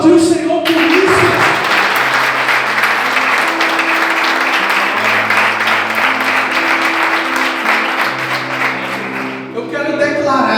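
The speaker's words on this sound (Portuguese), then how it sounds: "Você pode aplaudir o Senhor por isso?" A church congregation applauds loudly and continuously for nearly ten seconds during a sermon, with sustained keyboard chords playing underneath before the clapping fades out.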